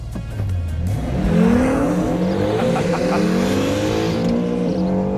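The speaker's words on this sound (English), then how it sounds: "All right, let's start with the launch control. Foot on the floor for the brake, foot on the gas, launch mode ready." A refreshed Acura NSX pulls away under launch control. Its engine note climbs steadily and loudly through a strong, continuous acceleration, with no talking.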